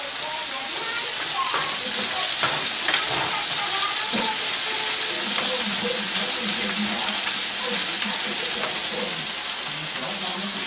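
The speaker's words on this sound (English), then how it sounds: "We will add some acidophorida, so that's hing in Hindi. Just add some of those. Let that get sauteed." Asafoetida frying in oil in a pan for capsicum chutney, a continuous hiss with crackling pops and occasional stirring clatter, close and steady throughout.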